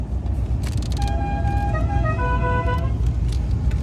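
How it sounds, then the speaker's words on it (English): A limo's horn honks in a sustained, steady multi-tone blast lasting about two seconds, close and loud over a constant low engine rumble, with no talking. "Dad, honk it. You want to honk it?"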